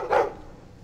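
A dog in the video game Dragon Age 2 gives a single short bark, a close, brief yelp that fades quickly into quiet background.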